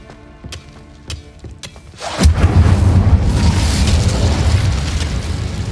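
The Incendio fire spell in a Harry Potter video game goes off as a sudden whooshing roar that follows a few sharp clicks, then rumbles on loudly and steadily before easing slightly.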